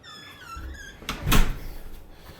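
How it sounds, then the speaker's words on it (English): The front door of a newly built house swings open. A soft swell and a brief creak build to a louder thump partway through, over quiet room tone with no talking. "So we're gonna come take a look in the front door here and see what we got."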